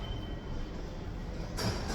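A metro train rumbling along, a continuous loud roar of wheels on rails with a faint high squeal, and a sharp hiss of air bursting in near the end; no one speaks.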